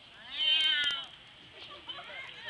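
A person imitates a cat's meow with a drawn-out, wavering mew, followed by softer, fainter vocal sounds in a quiet room.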